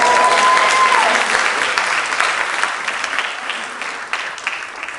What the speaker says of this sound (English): Let's give them a cheer